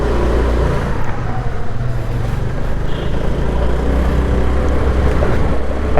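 A 2010 Honda Activa 110cc scooter rides along a narrow lane and accelerates. Its engine drones steadily, loud and close, with no voices over it.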